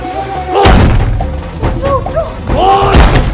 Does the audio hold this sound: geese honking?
no